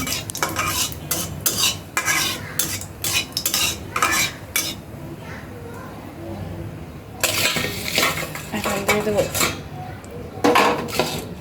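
Cumin seeds fry in mustard oil in a hot wok while a metal spatula scrapes and clinks against the pan in repeated bursts, a quieter stretch of soft sizzling between them, all close up.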